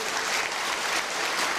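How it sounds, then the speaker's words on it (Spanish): Audience applause at a community gathering on mining and water issues, a steady dense wash of clapping from many hands that fills the short clip without a break. "Fuertes los aplausos también para los compañeros que se encuentran presentes"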